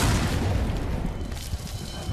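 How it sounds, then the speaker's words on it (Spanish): A loud, heavy explosion, a broadband low-frequency boom that stays dense and rumbling for about two seconds, slowly fading, with no voices over it. "Lo siguiente que sé es que hubo una explosión."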